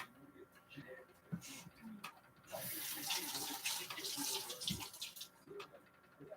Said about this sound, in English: so I'm putting a little bit of water in the pan.